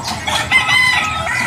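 Backyard chickens cluck and a rooster crows close by, a steady run of fowl calls with no talk over them.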